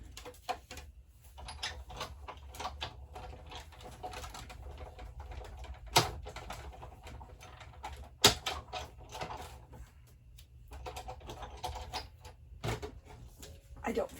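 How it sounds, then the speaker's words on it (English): Big Shot cut and emboss machine running as paper goes through: a steady low rumble with irregular mechanical clicks and two sharp knocks, fairly quiet, no talking. "run it through your large cut and emboss machine."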